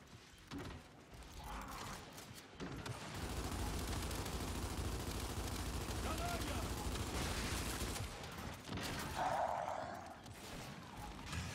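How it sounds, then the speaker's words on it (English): Gunfire rattles through a firefight in the video game Gears 5, a dense, sustained burst of shooting with mechanical clatter, while players talk over it. "Now we're fucking shooting our guns."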